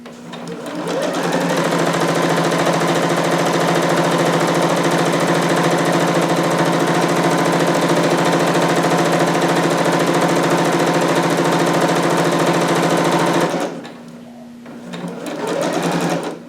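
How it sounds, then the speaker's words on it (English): A sewing machine stitches jumpsuit fabric in one long, loud, steady run with a fast mechanical whir, then stops briefly before a short softer restart. "And then when I get to the end, I'll pivot and continue stitching."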